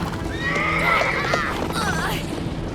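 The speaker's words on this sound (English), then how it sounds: "there's this herd of wild horses, and they're trapped by the fire" A herd of wild horses trapped by a wildfire in an animated show, with loud, close neighs and whinnies rising and falling over hoof clip-clop and a low background rumble, one long call followed by a shorter one.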